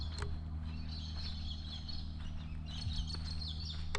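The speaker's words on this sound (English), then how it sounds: "Lots of birds chirping." Faint birds chirp and twitter intermittently in a bush park at Pinnarendi Station, Australia, over a low steady hum, scattered calls rather than a continuous song.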